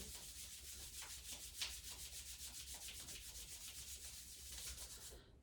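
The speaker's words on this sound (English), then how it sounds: "rub hands and feet together" Hands and feet rubbing together during a leg exercise class, a steady rhythmic swishing friction repeating many times at an even pace, close and fairly quiet, with no talking.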